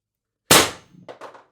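A single sharp shot from a Pistelle X-68 Punisher airsoft gun with a Huben Power Stock and ADN X18 drum magazine, loud and close, followed by a few faint clicks as it settles.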